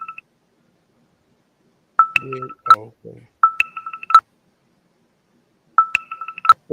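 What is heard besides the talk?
phone keypad beeping tones from a Bluetooth phone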